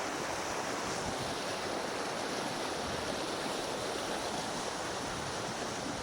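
A swollen stream at Svaneke on Bornholm, Denmark, rushes with heavy running water in a steady, dense hiss that is unbroken and moderately loud, with no voices.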